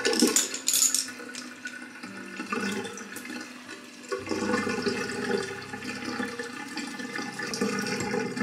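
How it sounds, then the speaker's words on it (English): Running water flows from a tap while makeup brushes are washed in a small dish, a steady splashing stream that shifts in tone midway and continues close by without talk. "We're about to wash some brushes."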